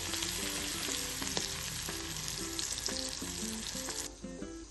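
Bitter gourd (karela) fries in oil in a wok with a steady, dense sizzle and crackle, thinning slightly near the end, while faint music plays underneath.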